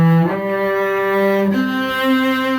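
Cello playing Rondo Grazioso from the Sonata in C Major, Suzuki Cello Book 4, a few sustained bowed notes changing pitch, close and clear with no talk.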